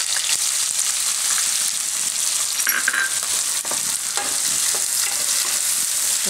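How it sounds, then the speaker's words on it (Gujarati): Onion sizzles and fries steadily in hot oil with green chillies and curry leaves, with occasional stirring, for spinach and gram flour curry in a Gujarati kitchen; continuous, close and fairly loud, no talk. "તો ડુંગળી થોડીક વાર પાકવા દે"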